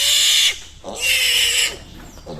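A male pig squeals loudly and shrilly during castration, in two long piercing bursts separated by a brief gap, followed by a short weaker squeal at the end.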